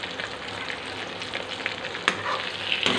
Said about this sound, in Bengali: সব দিয়ে সেটাকে ভালো করে নাড়িয়ে যেই ভাজা ভাজা হয়ে আসবে